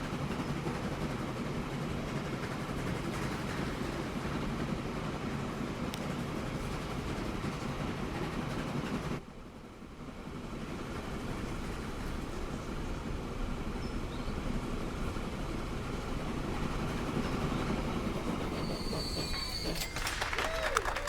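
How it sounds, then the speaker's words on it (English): A freight train hauls ore along a rail line in the Transport Fever 2 video game, a steady, continuous rumble of rolling wagons with faint wheel squeal, briefly dipping midway before resuming. "this train will obviously just continue running that line back and forth, hauling ore"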